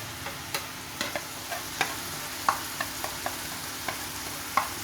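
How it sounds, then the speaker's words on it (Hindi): Chicken masala for chicken changezi stirred and fried in a pan, a steady soft sizzle with regular clicks of the spoon against the pan, close and moderately quiet. "और इसको भी इसके साथ अच्छे से भून लीजिए।"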